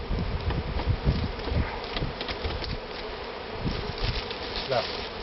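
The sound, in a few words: bees buzzing around a hive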